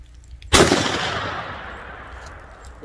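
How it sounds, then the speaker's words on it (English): Single rifle shot fired at a 100-yard target at an outdoor range, one sharp loud crack followed by a long fading rumble of echo. "I'm shooting at the 100-yard target down there."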